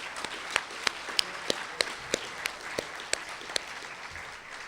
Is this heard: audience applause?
yes